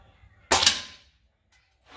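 A Black Knight 6.35 air rifle fires a domed pellet with a single sharp, loud crack that decays quickly, followed by faint, brief ticks afterward.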